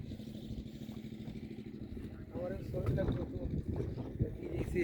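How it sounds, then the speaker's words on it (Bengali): A boat moving on a river current during a 33 kV submarine cable job, steady low rumble of engine and water throughout, growing louder and busier from midway, with wind buffeting and voices faintly underneath. "এই যে নৌকা পানির স্রোত"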